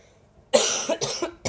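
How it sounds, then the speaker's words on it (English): A few harsh coughs, close and loud, one strong burst followed by two or three shorter hacking coughs. "I'm really sorry for coughing right now"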